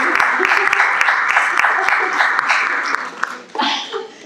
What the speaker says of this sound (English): So I want to take this moment to just give a round of applause.